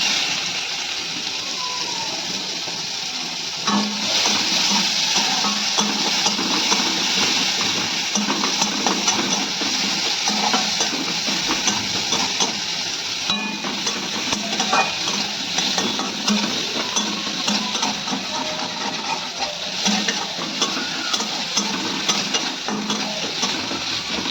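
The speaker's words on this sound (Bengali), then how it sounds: "পেঁয়াজটা একটু ভাজা হয়ে গেছে" Chopped onion fries in hot mustard oil left from frying rohu fish, a steady sizzle that runs throughout with occasional stirring and scrapes of a utensil against the pan.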